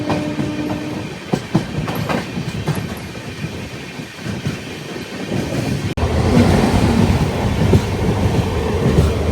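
A Machilipatnam–Visakhapatnam Express train passes close by, a loud rumble with clickety-clack wheel beats and brief metallic squeals that swell into a heavier roar partway through, with no voices.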